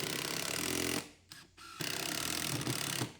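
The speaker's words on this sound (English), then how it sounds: "Pilot holes and screws." Power drill-driver sinking screws into pilot holes in wooden nest boxes at a workbench, two loud whirring runs separated by a short pause with a brief whir, close up and without talk.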